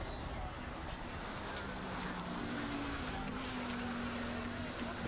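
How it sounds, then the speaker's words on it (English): Jaguar race car driven by Franco Di Matteo at the Simola hillclimb, a steady distant engine drone with a rising tonal whine, heard under wind noise and a soft murmur of commentary. "We're getting a replay here of Franco Di Matteo's Jag"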